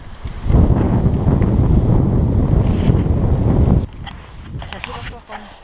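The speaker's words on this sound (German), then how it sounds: "da kam ein Wind auf" Strong wind rushes outdoors in Tuscany as a steady, loud, roaring buffet against the microphone for several seconds, then eases to a softer gusting.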